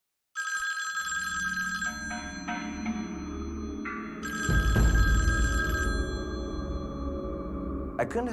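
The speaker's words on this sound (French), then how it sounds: "J'étais installé sur mon lit depuis environ 1 heure quand le téléphone a sonné." An old-style telephone bell rings in repeated bursts, loud and close, with a low rumbling background and faint voices.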